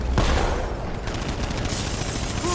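Rapid gunfire in Batman: Arkham Knight, a dense, steady burst of shots filling the whole moment at close range with no talking.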